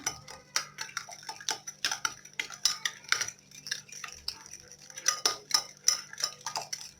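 A flour dough mixture for bur saliid, a Somali fried bread, is stirred in a bowl, giving repeated clinks and scrapes of a utensil against the bowl in an irregular rhythm, close and fairly quiet, with no talking.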